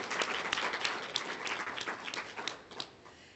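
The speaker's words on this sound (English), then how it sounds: "Big round of applause to the team who did that." An audience at a closing session of a Wyoming event applauds, a moderate crowd clapping steadily for a few seconds with a faint voice underneath.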